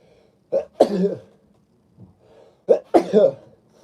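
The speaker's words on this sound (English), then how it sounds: "I'm still sneezing." A person sneezing during a live horror film club stream, two close bursts about two seconds apart, each a short sharp inhale followed by an explosive release, loud and near with no talk.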